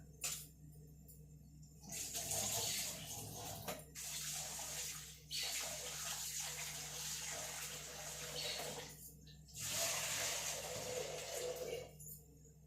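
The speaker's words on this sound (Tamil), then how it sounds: "அரிசி கழுவி போட்டுடலாம்." Rice is washed in water with quiet bursts of swishing and splashing, separated by short pauses, with no one speaking.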